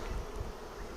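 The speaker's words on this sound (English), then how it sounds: "Smoking the bees out of the way" Honeybees buzzing around an opened hive while the colony is smoked, a dense, steady drone up close that holds through the whole second with no talk.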